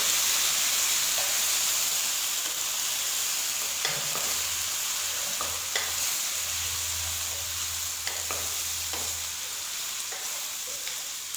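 Beef karahi sizzling and frying in a pan, a loud, continuous hiss close by with occasional clinks and scrapes of stirring and a low hum underneath, no talk, for an Eid white beef karahi recipe.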